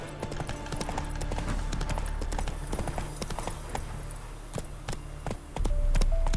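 Horse hooves clip-clop at a steady gallop in The Witcher 3 video game, a close, continuous rhythmic drumming that runs the whole stretch and swells louder near the end over a low game ambience.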